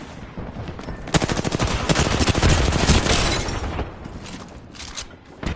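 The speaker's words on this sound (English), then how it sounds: "Stand back, knuckle cluster's firing" Knuckle cluster weapon firing in a video game: a sustained, rapid burst of loud gunfire-like reports running for several seconds, dense and close, tapering toward the end.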